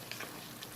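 Chicken and potatoes frying in a pan give off a steady close sizzle, with faint stirring scrapes across a brief moment.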